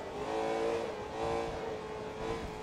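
Race car engine in Forza Motorsport 2 rolling steadily into the pit lane at Road Atlanta, a continuous mid-pitched drone that swells slightly and eases as the car slows.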